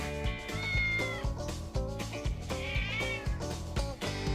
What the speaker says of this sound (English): Hear my cat yelling outside?